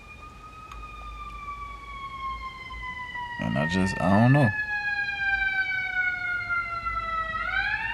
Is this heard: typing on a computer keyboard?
no